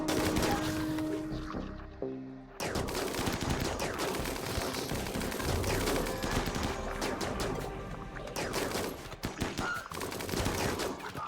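Rapid gunfire in the Rimworld video game, dense overlapping volleys of shots and automatic bursts that continue almost without pause, loud and busy after a brief dip near the start.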